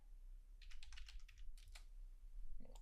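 Computer keyboard typing comes in quick, close bursts of soft clicks with short pauses between runs, fairly quiet and with no talk.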